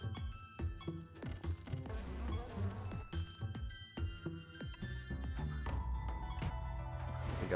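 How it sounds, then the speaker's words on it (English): Insect-like buzzing from wasp enemies in the video game Siralim Ultimate, a steady drone running beneath game music with repeated percussive hits and chiming tones. "Take out some more of these wasps."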